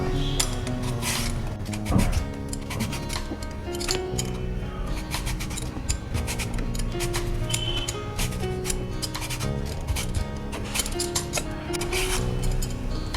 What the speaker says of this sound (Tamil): இப்போ இதை வந்து நம்ம தோலை சீவிடலாம்